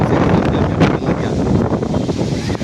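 Strong wind gusting steadily into the microphone outdoors, a loud continuous rumbling buffet with brief surges and no voices.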